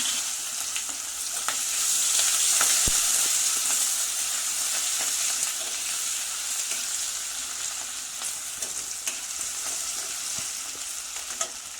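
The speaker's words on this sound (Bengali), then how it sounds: "এটা আমি একসঙ্গে ভালোভাবে কষবো" Steady close-up sizzling of onion, bay leaves, garam masala, garlic and green chilli frying in oil, a continuous hiss with occasional crackles and light stirring clicks, no voices.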